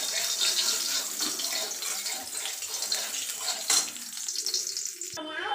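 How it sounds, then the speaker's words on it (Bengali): Radhuni seeds tempering in hot oil in a wok, a steady bright sizzle and crackle throughout, with a sharper pop near the end and a brief clatter at the close. "আমি তেলটা গরম হয়ে গেছে, আমি রাঁধুনি দিয়ে দিলাম"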